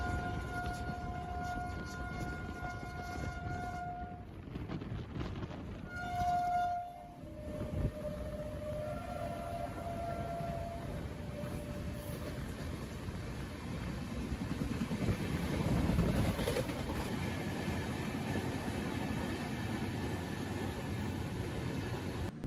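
Kashi Mahakal Express running in a parallel overtake with another train, a steady rolling rumble with a sustained horn-like tone and some tonal blasts, loud and continuous throughout.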